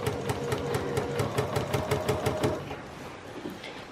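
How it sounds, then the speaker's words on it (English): A Bernina sewing machine stitches a wedding dress in a rapid, even run of mechanical clatter for about two and a half seconds, then stops, leaving quiet room noise. "This is a wedding dress going through Mum's Benina sewing machine."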